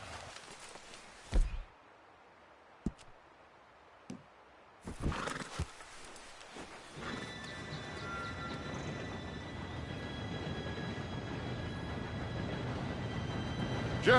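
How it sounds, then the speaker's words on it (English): An approaching steam train in the Red Dead Redemption 2 video game: a few sharp knocks over a quiet backdrop, then a low rumble that swells and holds steady with faint tonal whines as it nears. "Train should be here any minute now."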